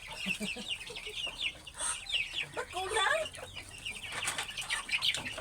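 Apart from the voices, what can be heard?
chickens clucking in farm cages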